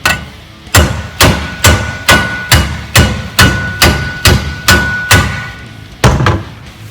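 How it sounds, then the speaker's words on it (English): A hammer pounds a metal pipe over a dimple die to flare it: about ten sharp, ringing metallic strikes in a steady rhythm, close and loud, each with a short decaying ring. "my hammer's dirty and it's leaving marks all over the metal"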